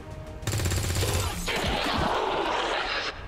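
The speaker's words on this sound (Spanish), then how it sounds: "Morgan Freeman ha vuelto a no fallar ningún puto disparo." Gunfire in the video game XCOM 2, a sharp burst of shots with a rapid rattling volley that gives way to a crashing, noisy blast and a sustained roar before cutting off.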